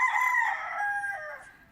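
A sweater gamecock rooster crows once, close and clear, a single drawn-out cock-a-doodle-doo that fades at the end.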